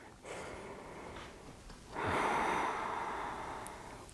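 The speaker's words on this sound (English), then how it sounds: "take a deep inhale. And a deeper exhale." A slow deep breath during a gentle yoga flow, a soft inhale followed by a longer, fuller exhale, close and quiet with no talking.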